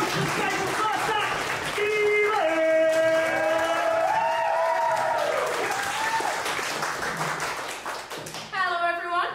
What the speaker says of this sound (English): please, stamp your feet, clap your hands, and welcome to the stage for first act